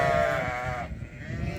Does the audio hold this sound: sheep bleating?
yes